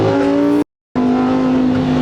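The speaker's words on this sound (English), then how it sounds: "I'm not going to drive this car for 3 weeks now, so I'm enjoying the sound" A car engine revs loudly and steadily in the cabin, with a sharp cut to silence partway through before the strong, sustained engine note resumes.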